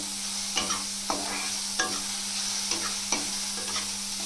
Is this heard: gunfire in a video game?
no